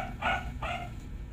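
A dog barks twice in quick succession, moderately faint, over a low background hum with no talk.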